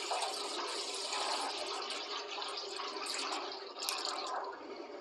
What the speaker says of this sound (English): So here's the first one in of cold water.